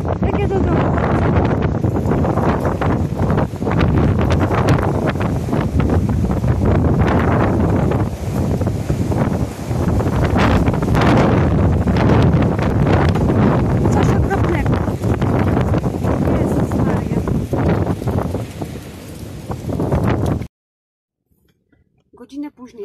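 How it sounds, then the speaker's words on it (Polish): A strong gale batters the microphone with loud, continuous gusting wind noise for about twenty seconds before cutting out, and someone speaks briefly underneath. "Jaka jest wichura okropna, popatrzcie, posłuchajcie."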